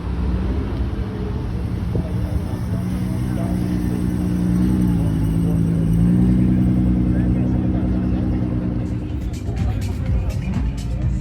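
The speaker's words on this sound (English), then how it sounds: "It's a 700 brake horsepower Nissan GTR" A 700 bhp Nissan GT-R R35 on a runway gives a steady, loud engine drone that rises in pitch as it accelerates, with wind buffeting in the cabin throughout.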